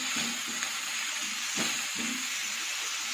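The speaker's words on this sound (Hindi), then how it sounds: "अब मैं इसे हल्का सा फ्राई करूंगी।" Chicken pieces seasoned with salt, chili and turmeric powder frying lightly in a pan, a steady soft sizzle with occasional stirring scrapes, close and quiet.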